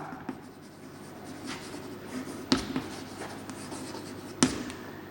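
Marker or chalk scratches on a board in a physics lecture: steady close scraping strokes with a few sharp taps, continuous and fairly quiet, with no talk over it.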